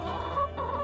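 A loud farm duck calls out briefly from nearby, a short harsh nasal honking burst heard on its own with no talk over it.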